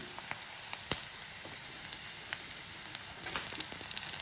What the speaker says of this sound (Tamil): கொஞ்சம் வதங்கட்டும். ஓரளவு வதங்கிட்டு பாருங்க.